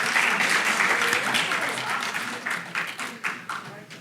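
An audience at a lecture about hydrogen cars applauds a student, with a dense round of clapping that starts full and gradually thins into scattered claps.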